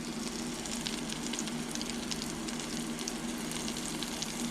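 Chicken nuggets deep-frying in hot oil, giving a steady, close, continuous bubbling sizzle that holds at an even level throughout, with no talking.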